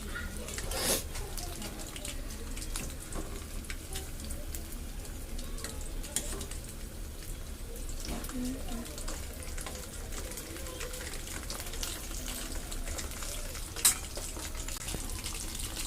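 Fish fry shallow-frying in a pan at home, a steady, even hiss of oil that holds at a moderate level the whole time, with faint clinks of utensils now and then.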